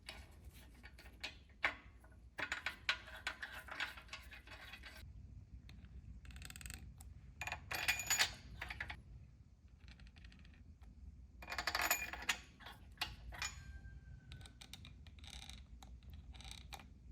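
Metal torque wrench clicking and ratcheting against the main bearing caps of a 12-valve International engine in a shop, with scattered close clinks, creaks and bursts of mechanical rattling separated by quiet gaps.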